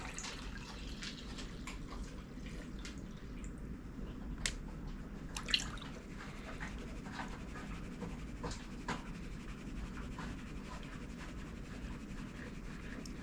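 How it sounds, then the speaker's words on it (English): Muddy paydirt rocks from an Alaska mudslide are washed by hand in water, giving steady low sloshing with scattered drips, splashes and small knocks throughout. The sound is quiet, close and free of speech. "So that's why I'm washing it with my hand."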